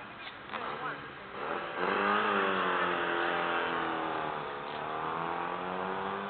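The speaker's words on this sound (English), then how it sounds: "Oh, here comes some cars." Racing cars passing at Brooklands, engines rising and falling as they sweep by, with a drawn-out revving pitch sweep from the passing vehicles heard from a spectator's position, fairly loud and continuous.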